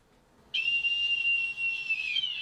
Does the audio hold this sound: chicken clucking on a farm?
no